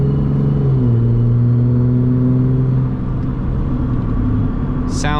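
A pickup truck engine revs while driving, heard as a loud steady drone with rising and falling pitch as it accelerates and shifts, with a brief sharp sound at the very end.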